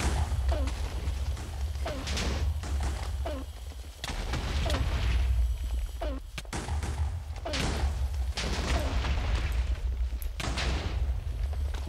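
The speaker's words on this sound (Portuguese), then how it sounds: "Muita explosão, eu não tô aguentando." Minecraft explosions fire in rapid succession, a dense run of loud booms and crashes every second or so over a continuous rumbling game soundscape.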